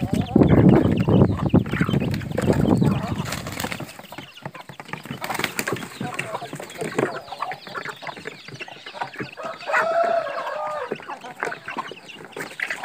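Chickens cluck steadily while eating prepared feed, with a dense, busy chorus of close clucks and soft pecking. A louder burst comes at the start before the flock settles into continuous chatter, with no talking.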